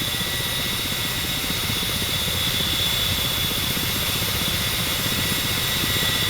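Ka-50 Black Shark helicopter hovering in the DCS flight simulator, with a steady, continuous rotor and turbine drone, even and unbroken throughout, plus a constant high engine whine above it.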